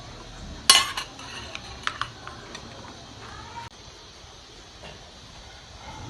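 Chana chaat salad tossed with salt in a bowl: a sharp clatter of a spoon against the bowl early on, then scattered lighter clinks and soft scraping over a steady background hiss.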